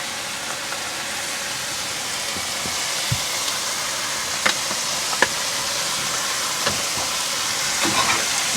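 Rice sizzling and frying in a pan on a caravan cooktop, a steady broadband hiss with occasional soft stirring clicks and scrapes, close and moderately loud, no talking.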